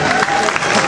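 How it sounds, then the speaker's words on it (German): An audience on stage at a live show claps in a dense, steady burst of applause that lasts less than a second. "Applaus."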